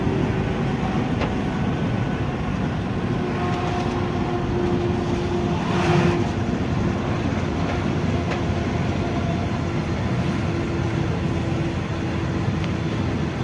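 State transport buses climb the road up to Saptashrungi Gad during the Chaitra fair, a steady engine rumble and road roar that runs unbroken and fairly close, swelling slightly midway, with no talk.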